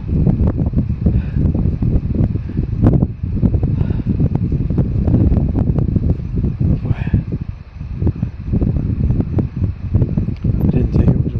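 Steady wind roars and buffets the microphone, a dense low rumble that continues for the whole stretch with brief gusty swells.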